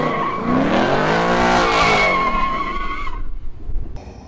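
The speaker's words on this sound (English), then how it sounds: "She kept doing burnouts." Ford Mustang GT doing a burnout, loud close tire squeal and skidding over a revving engine that rises and falls, then cuts off abruptly, leaving quieter rumble and a brief high tone.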